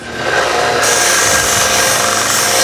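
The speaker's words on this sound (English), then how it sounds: "Back to the belt sander, because again, we cut that off, and so we want that to be nice and smooth." A belt sander grinds and smooths the cut end of a silverware fork being shaped into a necklace pendant, a loud, steady, close abrasive roar that runs unbroken and alone.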